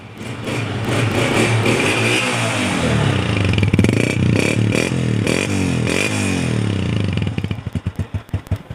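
A Honda 125 motorcycle engine idles loudly nearby with a rough, steady chug, then blips and sputters near the end.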